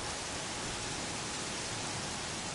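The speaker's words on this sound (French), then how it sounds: "c'est joli cette pluie horizontale" Steady, hissing horizontal rain in a video game set in Aloy's world, a dense wash of falling water at moderate level with no breaks.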